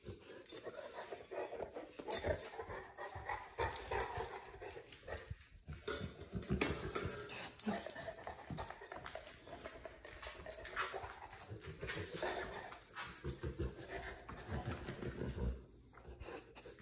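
A sleeping dog makes soft whimpers, snuffles and panting noises close to the microphone in irregular bursts across a quiet room, with no talking.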